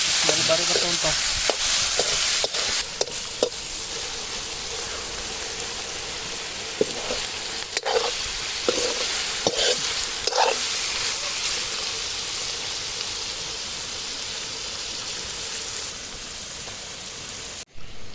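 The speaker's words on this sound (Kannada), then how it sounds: "ಇದೇನು ಇದ್ರನ್ನ ಹುರ್ಕೊಳ್ಳೋಣ ಒಂಚೂರು" Squid with chicken stuffing fries in a pan, giving a steady close sizzle broken by repeated scraping stirs of the spoon, with no talking.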